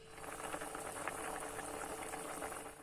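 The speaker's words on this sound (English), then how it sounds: "allow the rice to boil on high heat." Steady bubbling and hissing of rice and water at a rolling boil in a pot on high heat, continuous and fairly close, with no voices.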